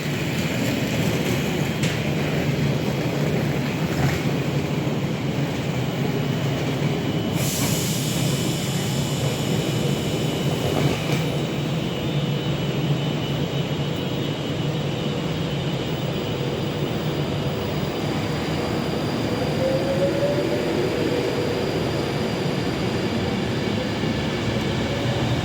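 A train pulls away from Nuneaton station bound for Manchester Piccadilly, a continuous low rumble and engine drone holding steady throughout, with a brief brighter hiss partway through.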